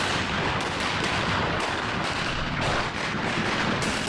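Sustained gunfire, a dense, continuous barrage of shots dramatizing soldiers firing on a crowd at Jallianwala Bagh in 1919, loud and unrelenting with no pauses.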